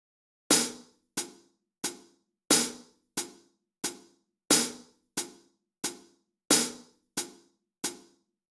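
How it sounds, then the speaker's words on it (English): A metronome clicks steadily, thirteen crisp ticks with every third one louder, marking a waltz-like one-two-three pattern with nothing else playing. "So the metronome beat would sound like this."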